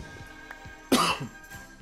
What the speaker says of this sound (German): da hat sich gerade nochmal ein kleiner Huster eingeschlichen.